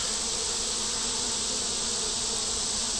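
Honey bees clustered outside a hive on a hot day fill the air with a steady, dense buzzing hum, close and continuous without pause.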